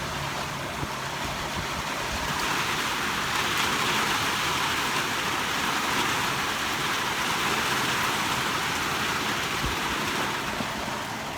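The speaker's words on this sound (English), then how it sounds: "let's go check out this rain, actually." Steady outdoor rain in the rainy season, a dense continuous hiss of drops falling close around, even and unbroken throughout with no voices.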